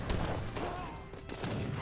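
Culverin Royale cannons fire in Age of Empires 3 as a dense, rumbling volley of overlapping booms and thuds, with a heavier blast near the end.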